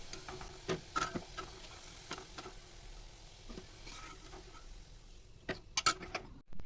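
Fried bread sweets lifted out of hot oil sizzle faintly as the oil drains, with soft scattered ticks and clinks of the utensil against the pan, quiet and close with no voices.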